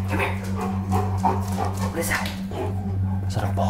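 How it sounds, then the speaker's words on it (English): A small dog whimpers and yips in short bursts indoors while people talk nervously over a steady low hum. "There's like a little dog in here."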